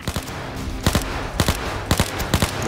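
Bursts of rapid video game gunfire from OVERKILL's The Walking Dead in pairs and short volleys, loud and close over a constant noisy background, repeating every half second or so.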